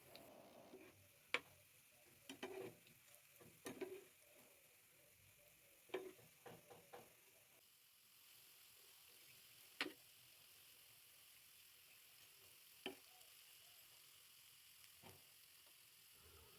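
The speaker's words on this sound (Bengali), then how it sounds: "আস্তে আস্তে করে ভালো করে ভেজে নেব।" Potato snacks fry in oil in a frying pan, a quiet sizzle broken by scattered sharp clicks and pops, with no voices.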